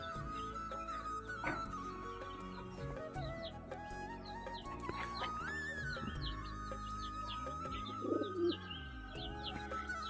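Pigeons coo softly and repeatedly in their coop while feeding, low rolling calls mixed with light chirps over steady background noise, with no talk.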